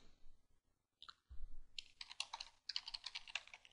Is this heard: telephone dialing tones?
no